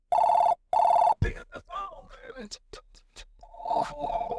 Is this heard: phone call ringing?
yes